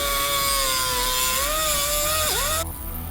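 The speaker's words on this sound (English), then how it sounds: "now I'm going to be cutting the muffler with this cut-off wheel" A cut-off wheel grinds through the muffler tube of a Predator 212cc small engine, a loud, steady high-pitched whine whose pitch dips briefly near the end as the cut finishes.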